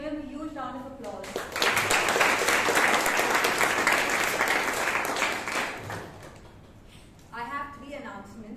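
A Toastmasters club audience at a Bangalore meeting breaks into a full round of clapping that swells and holds for several seconds, then fades as a voice resumes talking before and after it.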